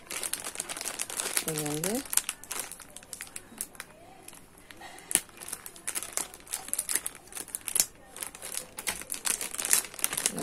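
Crinkly plastic packaging of round beads for Aari embroidery being opened and handled, a steady run of close crackling and rustling bursts, with someone talking briefly over it.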